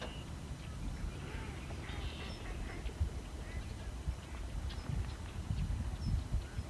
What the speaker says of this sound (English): waterfowl